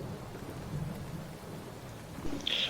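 A thunderstorm with rain gives a steady wash of rainfall under low rumbling thunder, with a slightly louder swell near the end and no voices.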